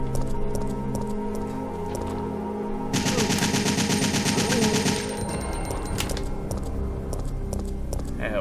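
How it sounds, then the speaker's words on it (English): Automatic assault rifle fire in the Resident Evil 3 Remake video game, a rapid, dense rattling burst of shots lasting a couple of seconds amid other game sounds. "Switch back to the assault rifle here."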